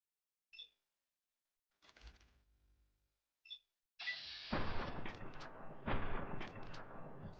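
A burst of gunfire from a shooter video game set in Nevada, dense and loud after a few short clicks and thuds, continuing steadily to the end.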